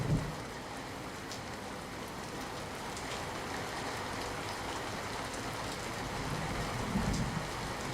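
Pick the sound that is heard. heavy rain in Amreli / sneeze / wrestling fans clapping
heavy rain in Amreli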